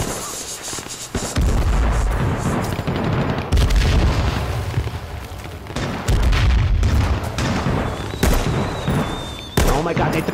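An airstrike in H1Z1 pounds a farm with a string of loud, deep explosions, several heavy booms landing seconds apart with rumbling tails and crackling debris in between.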